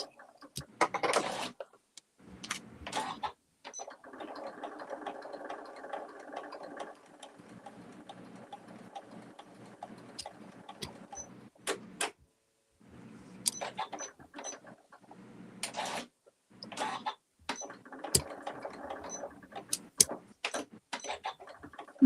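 A sewing machine runs in two long bursts of steady mechanical stitching, broken by short pauses and sharp clicks and knocks, with no talking.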